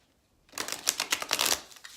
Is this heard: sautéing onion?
no